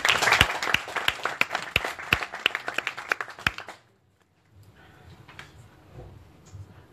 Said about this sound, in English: So a warm applause to Amaury.